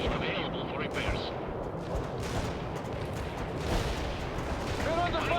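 Gunfire and artillery rumble and crack across a World in Conflict battlefield, a dense continuous barrage of distant booms and shots with a voice speaking over it.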